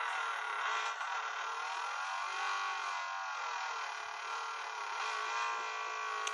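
Modified starter car engine in a video game, a steady thin whining drone held at a fairly constant pitch, faint and continuous with no talk.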